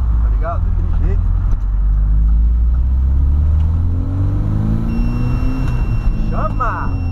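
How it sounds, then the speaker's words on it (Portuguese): A Volkswagen Voyage runs with its engine revving and accelerating downhill, heard as a loud, close rumbling drone that rises in pitch, with voices talking over it at times. "Vamos subir lá em cima lá e dar uma acelerada pra baixo."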